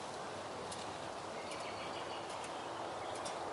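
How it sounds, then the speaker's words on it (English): Birds sing outdoors in a windy natural setting, scattered faint chirps over a steady hiss of wind and background noise, with no talking. "I sure can hear the birds."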